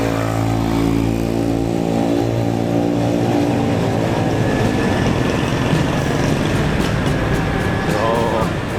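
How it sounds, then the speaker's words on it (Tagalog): A motorcycle's engine drones steadily during a night ride, recorded close up on the moving bike. A low hum shifts in pitch as speed changes, and wind noise runs throughout. "Para lang maingay dahil motor."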